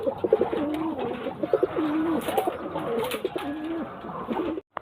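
Pigeons coo in repeated, rolling phrases close by, several birds overlapping in a steady stream of calls that carries through the whole stretch before a brief drop near the end.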